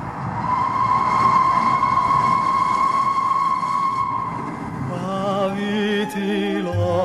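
A train whistles at night: one long, steady, loud tone holds for about four and a half seconds over a low rumble, then gives way to voices.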